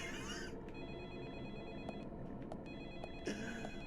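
An old-style telephone bell rings repeatedly inside an abandoned lumber mill in a rainy-woods horror video game, with steady rain ambience beneath and a brief burst of noise at the start and end.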